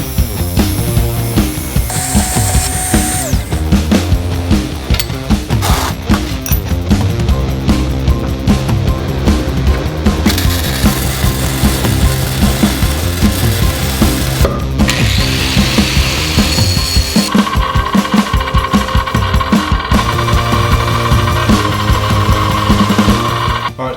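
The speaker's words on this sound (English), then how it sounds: "I've got some 1-inch angle iron. I'm gonna cut a little piece of this guy" Piece of 1-inch angle iron being cut for chopper motorcycle axle adjusters, a loud, continuous rapid ratcheting mechanical clatter with a shifting metallic whine throughout, close up and with no talk.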